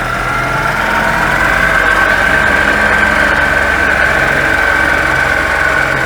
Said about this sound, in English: at that point the engine revs start going up